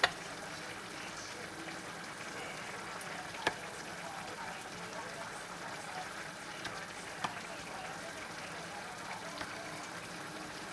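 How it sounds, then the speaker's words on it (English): Water boiling hard in a pot for cheesy fish chowder, a steady soft bubbling hiss with a few small clicks and pops, fairly quiet and continuous, no talking over it. "Looks like this water's boiling just a little too much."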